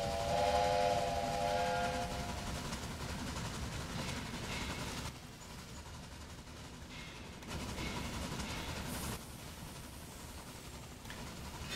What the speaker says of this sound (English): Oh, you made it whistle